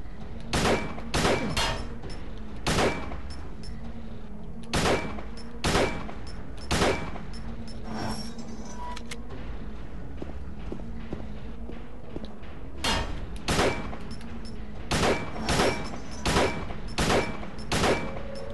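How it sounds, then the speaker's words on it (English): Gunfire in the video game Silent Hill 2 as the player shoots at Pyramid Head: loud, sharp shots ring out singly and in quick clusters over a constant murky ambient drone, with no talking. "He gets slower when, you shoot him."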